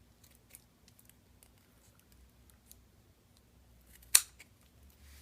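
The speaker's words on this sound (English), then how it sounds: "Let's snip off that little extra piece of tape." A single sharp scissor snip cutting through a small extra piece of tape on a homemade mini knife, one crisp cut after quiet handling noise.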